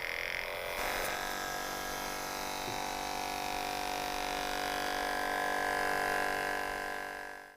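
A Protexus electrostatic sprayer runs with its electrostatic charge switched on, giving a steady, even electrical hum and buzz that holds at a constant level throughout, with a brief handling noise near the start.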